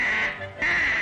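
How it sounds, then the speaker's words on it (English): A cartoon goose practicing its honk at a fiesta gives two short, nasal, duck-like honks separated by a brief pause, loud and close. "The little goose was practicing his honk."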